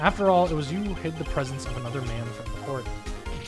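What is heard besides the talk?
No distinct noise like a dog, phone or traffic.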